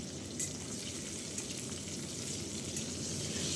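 Parshe fish sizzles steadily in hot oil in a home kitchen, a constant bright crackle with no break and no talking.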